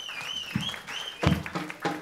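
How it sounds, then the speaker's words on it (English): A crowd at a studio gig applauds a band, with bursts of clapping mixed with high whistles. The sound swells and fades in waves at moderate loudness. "Give a big round of applause to you guys."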